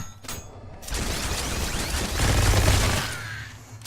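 Laser cannon weapon fire in the sci-fi video game Revulsion, a sustained loud crackling burst that swells and then fades out over a few seconds, heard on its own without talk.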